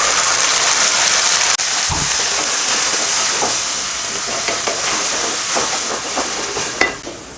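Tomato paste hits a pan of fried onions with a loud, steady sizzle and hiss, then a spoon stirs through it with scraping and clacking near the end.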